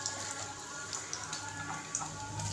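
Chopped onion sizzles and spits in hot mustard oil in a wok. The crackle is steady and dense, close and fairly quiet, with small pops scattered through it and no voices.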